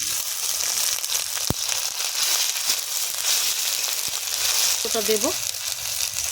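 Ginger garlic paste frying in a pan with browned onion and a bay leaf, cooking for a snail curry: a steady, close sizzle with occasional clinks, and a brief spoken remark near the end.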